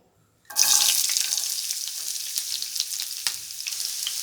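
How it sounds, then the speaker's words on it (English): Garlic dropped into a pan of hot oil sets off a sudden loud sizzle that then settles into a steady crackling fry, close up and alone with no voices. "Let's take a pan. Add 2 spoons of oil. After heating, add garlic."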